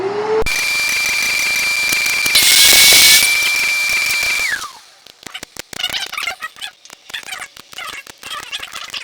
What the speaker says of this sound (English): I'm just going to go ahead and just do this on the miter saw there and chop off the ends.